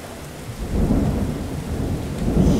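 Low rumbling thunder rolls under a steady wash of rain, swelling louder after the first half second and holding.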